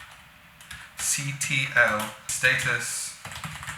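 Keys clatter in quick bursts as a terminal command is typed on a computer keyboard, close and clear, while someone talks over the typing.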